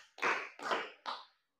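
A class of school students clap together on command, three quick loud group claps in a steady rhythm that cut off into silence.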